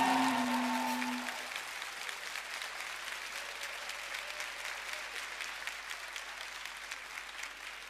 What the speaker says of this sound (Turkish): En yüksek sesinle alkışlarla Raşo